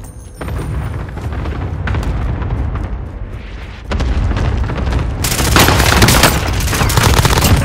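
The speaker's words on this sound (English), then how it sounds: "Allied cluster strike arriving" Allied cluster strike in Warzone on Rebirth Island: a dense run of heavy booms and gunfire-like blasts rolls on continuously, growing louder and fuller toward the end, close and loud with no talk.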